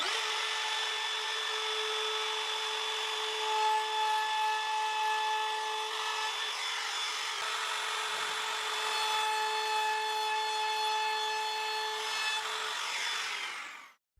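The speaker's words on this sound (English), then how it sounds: "I'm going to route the slot for the head of these screws. I use a round nose router bit." Router fitted with a round nose bit cuts a slot in plywood, a steady high-pitched whine with constant cutting noise running for about fourteen seconds before stopping abruptly at the end.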